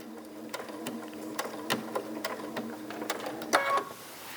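Sewing machine stitching a biscornu cushion, a close, rhythmic mechanical whir with steady needle taps and a louder clunk near the end as it stops.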